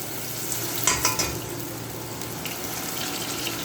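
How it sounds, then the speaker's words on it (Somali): Chopped onions sizzle in hot oil in a cooking pot for chicken and rice, with a few scraping stirs near the start, all close and steady without any talking. "waxaa soo qaadanay digsi saliid ku shubnay, basal ku sii darnay"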